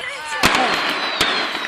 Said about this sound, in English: Litty fireworks.